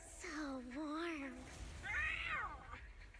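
Cat meowing in the video game Zenless Zone Zero, two drawn-out rising and falling meows close up, the second higher and brighter, over a low game background.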